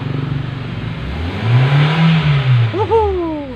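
A Hyundai i10 with a check-engine fault is revved hard nearby, its engine rising to a loud peak and settling again, with a brief high whir near the end.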